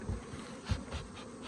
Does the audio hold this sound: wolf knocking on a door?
no